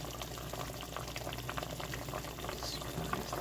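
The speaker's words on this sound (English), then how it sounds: "so getting it boiling for a few minutes, usually about 10 minutes" Pot of smoked turkey soup at a rolling boil, a steady dense bubbling and gurgling that stays close and even throughout, with no talking over it.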